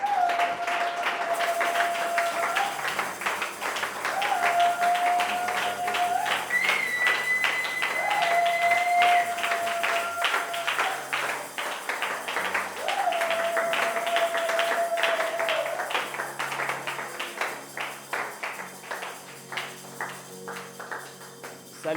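A church congregation claps for the Lord in steady, dense applause that fills the room throughout, with sustained musical tones ringing over the clapping.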